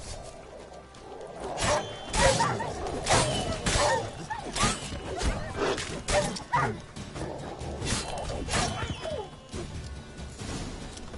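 Stray dogs in the video game Witcher 3 bark, yelp and snarl as a pack fights, with repeated sharp close barks and scuffling over a continuous game background.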